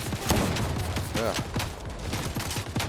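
Gunfire from the Fortnite video game, a scatter of sharp cracks and bursts that sound somewhat distant, with a voice talking underneath.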